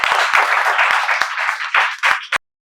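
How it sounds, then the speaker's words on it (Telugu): Applause from an audience at a spoken English institute welcoming students, dense continuous clapping that fills the clip, with a few sharp claps near the end before it stops abruptly. "మేమందరం చప్పట్లతో స్వాగతాన్ని తెలియజేస్తూ సెలవు తీసుకుంటాం"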